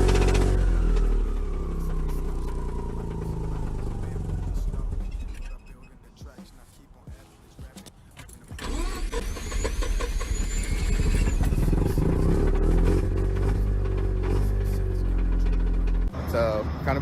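A Mazda RX-7 13B rotary engine, losing compression and running badly, sputters and revs unevenly up close, dipping quiet midway before picking back up, with no voice over it.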